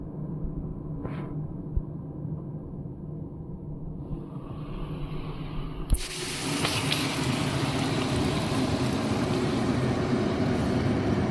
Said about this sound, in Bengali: এখন আমি এতে গরম জল ঢেলে দিব।